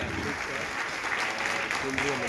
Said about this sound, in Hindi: एक बार सभी जोरदार तालियों से स्वागत।